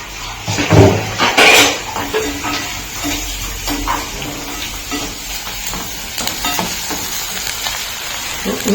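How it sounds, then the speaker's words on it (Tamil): Food fries in a pan while a gravy is cooked, a steady close sizzle with clattering stirs and a loud scrape near the start, no voices over it. "இந்த அளவுக்கு ஃப்ரை ஆனால் போதும்"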